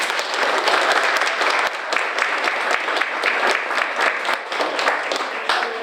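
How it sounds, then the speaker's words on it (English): Sustained applause from a crowd at a volunteer appreciation and legislative breakfast, dense and steady clapping throughout without letup. "Can we give them all a big round of applause?"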